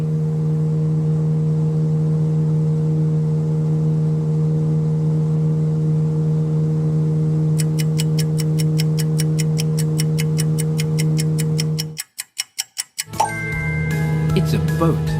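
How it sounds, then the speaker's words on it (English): Boat engine running with a steady low droning hum and strong even harmonics, unchanged for about twelve seconds, then a brief silence followed by rapid ticking and a chime. "It's a boat."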